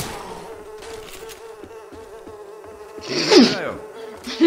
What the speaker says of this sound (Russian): Вот, мухи!